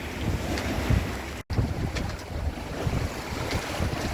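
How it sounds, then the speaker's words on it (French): Wind buffets the microphone steadily on a sailboat while choppy sea waves slap and splash nearby, a constant rough roar with no voices. "il y a quand même du vent et du clapot"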